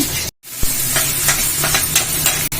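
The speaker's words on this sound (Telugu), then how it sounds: "అయితే పోపు పెట్టేసుకొని కలిపేసుకొని ఇంకా పక్కకు పెట్టేసుకుంటున్నా" A spoon scrapes and stirs a tempering of chillies, curry leaves and dal sizzling in oil in a pan, with a brief cutout near the start and hissing throughout.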